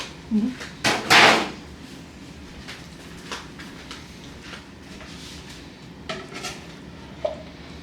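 A reusable pan being rinsed and washed, with a few sharp clanks and scrapes of metal up front followed by quieter intermittent knocks and splashes over a soft background hum.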